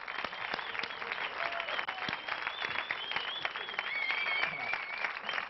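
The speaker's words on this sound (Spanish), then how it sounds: "Fuerte aplauso para el Eulogio." A television studio audience on a Spanish comedy show breaks into sustained, even applause, heard slightly distant and dense throughout, with faint speech and a whistle-like tone drifting over the clapping.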